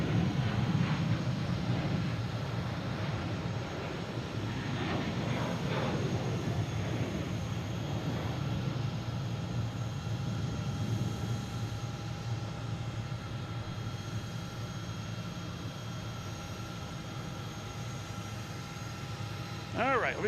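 Delta Boeing 737-800 jet at Boston Logan airport, a steady low engine rumble and hum held throughout at moderate distance, with someone talking over it.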